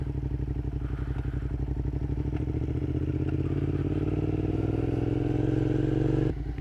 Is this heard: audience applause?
no